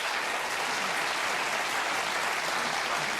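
A large television studio audience of about 500 people breaks into loud, continuous applause, a dense wall of clapping with no break for the whole stretch.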